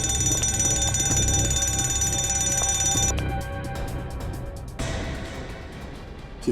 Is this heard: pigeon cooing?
no